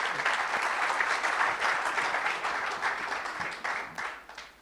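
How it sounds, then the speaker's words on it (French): A seated audience at a regional business round-table breaks into steady, dense applause that fills the room without pause, then thins and fades toward the end. "Vous pouvez l'applaudir aussi."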